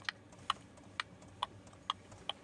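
The fuel pump of a Chinese diesel heater ticks steadily, with about six soft, regular clicks roughly every half second over a low background hum. No one speaks.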